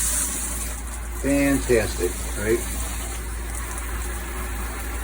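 Water streams steadily from a handheld shower head in an RV bathroom, a constant hiss running under the whole clip while a person speaks briefly over it.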